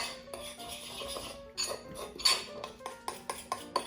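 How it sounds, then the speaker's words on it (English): A utensil stirs a quarter cup of almond flour into a keto pecan pie tart mixture in a bowl, with a light scraping hum broken by several sharp clinks against the dish that grow more frequent toward the end. "And then we're going to mix that in there."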